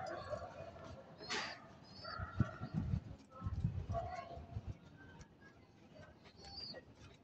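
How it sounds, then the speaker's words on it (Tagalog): Pigeons flocking back into a backyard loft, with soft cooing and wing flutters over a busy low background of rumbles and dog-like whimpers. "Yun, pumasok na mga kaibon"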